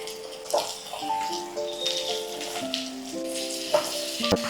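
Cucumber pieces tipped into a frying pan with oil and turmeric, a close sizzle and frying hiss with clatters and stirring scrapes, while steady musical tones play in the background.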